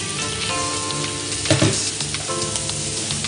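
Vegetables, green beans and mussels frying together in a hot pan, a continuous dense sizzle with a brief louder burst of stirring midway, no one talking.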